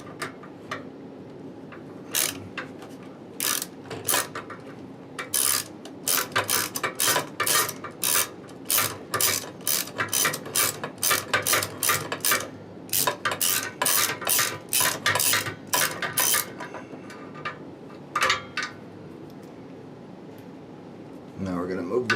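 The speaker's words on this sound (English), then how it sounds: "take a long extension and a 10mm socket on a swivel and remove the 2 bolts that hold it in there" A ratchet turning a 10mm socket on a long extension and swivel, backing out the two shifter bolts during a Barton shifter install on a Shelby GT350, with close, rapid clicking bursts repeating in quick runs.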